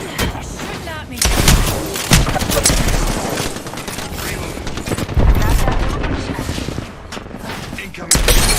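Video game gunfire: rapid bursts of shots and booms, loud and dense throughout, with a player talking over the battle.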